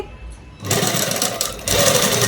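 A sewing machine stitches the neck of a dress, starting after a quiet moment and running as a loud, close, steady mechanical whir with a brief dip before speeding up again.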